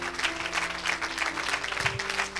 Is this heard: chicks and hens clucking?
no